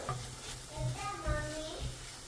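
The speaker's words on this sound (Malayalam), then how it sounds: "ഇനി ഇതിനെ നന്നായിട്ട് വഴറ്റാം." Beetroot and dates pickle with Kashmiri chilli powder and ground mustard and fenugreek is stirred in a pan, giving a steady soft sizzle with several scraping stirs close by and no talking.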